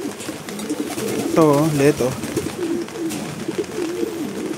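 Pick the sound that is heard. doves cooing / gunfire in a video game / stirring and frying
doves cooing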